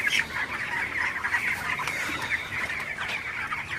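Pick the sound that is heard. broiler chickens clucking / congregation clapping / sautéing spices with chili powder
broiler chickens clucking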